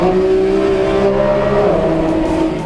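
A Lamborghini Revuelto engine roars loud and steady as it accelerates, its droning pitch echoing and booming inside an enclosed tunnel.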